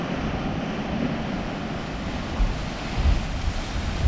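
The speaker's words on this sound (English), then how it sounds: "the water comes up out of that hole like a spout from a whale" Ocean surf surges into the sea cave channel at Spouting Horn on the rocky Cape Perpetua coast, a continuous roaring wash with heavier low thumps of water around the middle and end, mixed with wind buffeting the microphone.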